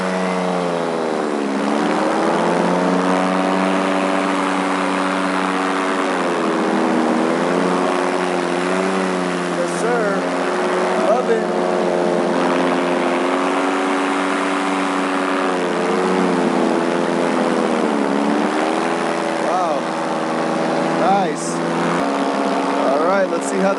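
An ITV Piper paramotor engine drones in flight, a steady loud buzzing hum whose pitch rises and falls slightly as throttle changes, continuous throughout with no one talking.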